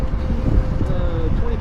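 Heavy low rumbling buffets the microphone as cold wind blows across it at a wet skid pad, constant and close, with a faint engine-like hum underneath.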